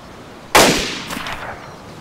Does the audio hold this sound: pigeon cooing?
no